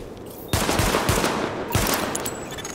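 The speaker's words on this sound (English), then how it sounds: "Open fire at the highlighted targets." Gunfire from The Division video game as a weapon is fired at highlighted targets: loud, sharp shots and rapid bursts crackle continuously across the clip, with several harder cracks standing out. No one speaks.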